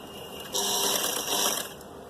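A sewing machine stitches two layers of suit or blouse fabric in one brief mechanical whirring burst of about a second, close and alone.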